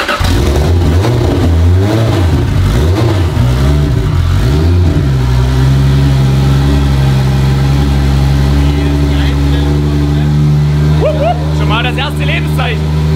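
A 1000 hp single-turbo Toyota Supra MK4 engine fires up for its first start and revs loudly, climbing and falling in pitch before settling into a steady rumbling idle, with people talking nearby.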